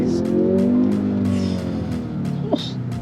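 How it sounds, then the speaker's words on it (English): A Kia Stinger on a test drive, its engine droning loudly and steadily from inside the cabin, the pitch rising and shifting as it accelerates, with a brief sharp click near the end. "So now we're going to take the Stinger out for a drive to see how it performs."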